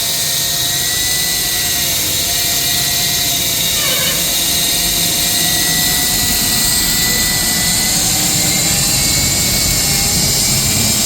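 A ring saw machine running at full power gives off a loud, continuous high-pitched whine and drone for the whole stretch, steady and close, with no clear talking over it.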